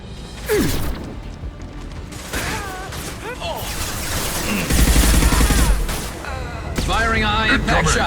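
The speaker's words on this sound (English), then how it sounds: "Firing a high-impact shot!" High-impact gunfire in the video game Mass Effect 2 comes as sharp mechanical bursts and crashing impacts, mixed with whooshes and combat effects, mostly under character voices talking over the action.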